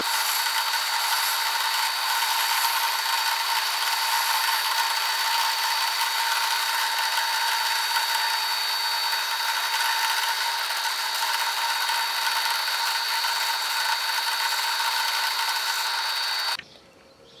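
Continuous hissing abrasion of sanding on a Kydex holster, steady and unbroken for the whole stretch, then cutting off abruptly at the end.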